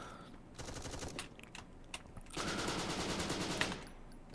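Rapid automatic gunfire in the video game Bullet Force, two fast bursts of clattering shots, the second longer and denser, close and loud with no talking.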